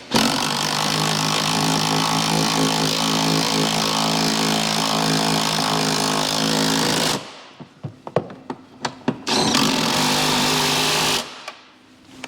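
A power tool drives in the rear shock absorber bolts on a Volkswagen Touran, giving a loud, steady buzzing whir for several seconds. A few clanks and taps follow, then a second short burst of the tool.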